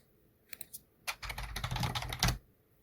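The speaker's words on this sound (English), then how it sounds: "if I type hello world at the prompt in all lowercase letters" Quick bursts of typing on a computer keyboard: a few isolated keystrokes, then a dense run of clicks typing a short phrase at a command prompt, close and clear, with no talk.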